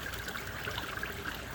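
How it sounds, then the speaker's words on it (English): A pond waterfall inflow with aeration, steady close splashing and trickling water running without a break, with no voices. "One is in this waterfall, and you can see the aeration there."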